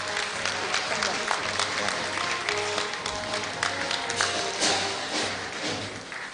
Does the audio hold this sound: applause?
yes